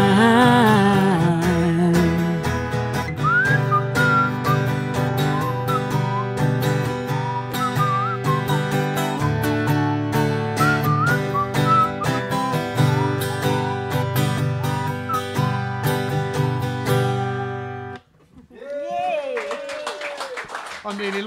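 A person whistles a tune over steady musical accompaniment for most of the stretch, then the sound drops away into brief talk.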